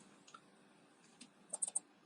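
A computer mouse is double-clicked while working in Adobe Illustrator, a faint pair of quick, close clicks preceded by a few soft scattered taps in a quiet room.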